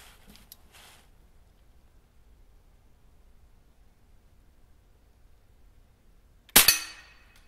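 A Crosman Legacy 1000 pump air rifle fires at a steel target outdoors at dusk, leaving a quiet, faintly rustling stretch that ends in one sharp, loud crack with a short ring.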